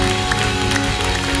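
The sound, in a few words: church congregation applause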